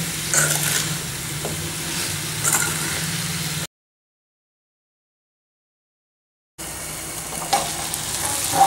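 Chopped tomatoes and mint frying in a pan while being stirred: close, continuous sizzling with scraping spoon strokes, broken by a stretch of complete silence before the frying and stirring resume.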